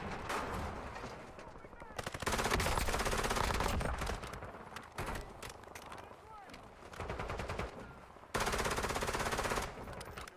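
Bursts of automatic gunfire and scattered shots in Call of Duty Warzone, loud and dense, with pauses between volleys and a voice talking over parts of it.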